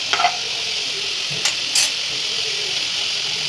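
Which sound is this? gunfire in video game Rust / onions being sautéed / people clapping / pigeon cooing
onions being sautéed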